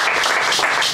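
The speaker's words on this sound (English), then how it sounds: "give God a clap offering" A church congregation claps as an offering of praise during a Sunday service, a dense, steady wash of many hands filling the room without a break for just under a second.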